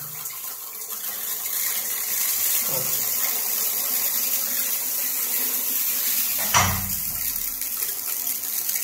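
Water runs steadily through a newly installed Lorenzetti Turbo Jet electric shower with the motor off, a continuous close hiss and splash with a couple of brief knocks, no voices.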